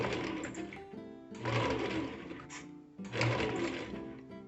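A bread maker kneads chocolate chip cookie dough with a steady motor whir and rhythmic churning that swells and eases roughly every one and a half seconds, close and continuous.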